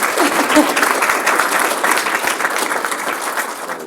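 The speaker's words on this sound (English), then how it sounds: "Give him a big round of applause." An audience applauds steadily for a keynote speaker, dense clapping filling the room from start to finish at a fairly loud, even level.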